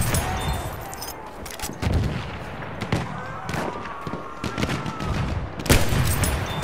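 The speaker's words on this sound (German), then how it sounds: "Aufpassen, Maschinengewehr!" Rapid bursts of machine gun fire and scattered gunshots crackle through a Battlefield 1 firefight, loud and dense, with dull explosions in the background and no clear voices.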